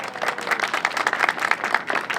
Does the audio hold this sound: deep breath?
no